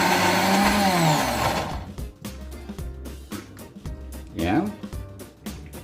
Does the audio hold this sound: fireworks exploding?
no